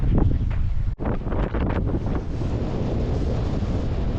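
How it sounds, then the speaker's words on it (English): Strong wind on a lakeshore with whitecaps, roaring and buffeting against the microphone in loud, continuous gusts with brief dips, and no talking. "Nicer walking this way. You know why? The wind's at our back."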